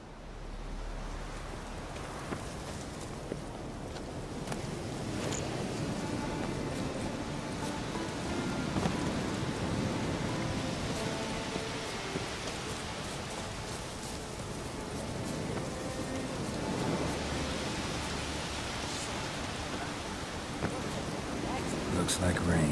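Steady rain and stormy weather at sea in the Witcher 3 video game, a continuous broadband wash with possible distant rumbles, with voices talking over it throughout.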